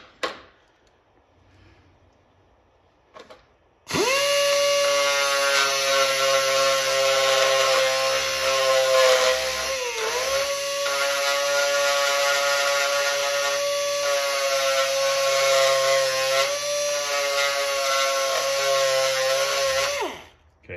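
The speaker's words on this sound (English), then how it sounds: "I have my little deburring tool here. We're gonna find this crack right here." A small deburring tool, motor-driven, cuts a groove along a crack in a Pole Position arcade cabinet part; after a few quiet seconds it spins up into a loud, steady high whine that holds with slight dips before cutting off.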